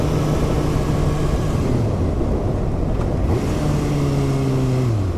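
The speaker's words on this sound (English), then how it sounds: "I can just twist this throttle at almost any gear and it" 2020 Kawasaki Ninja 636 accelerating hard as the throttle is twisted, its engine pitch climbing and dropping through several gear shifts, loud and sustained with no voices.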